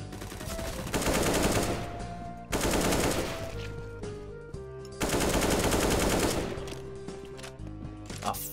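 Loud AK rifle gunfire from the game CS:GO comes in three long automatic bursts separated by short pauses, with some game sounds between them.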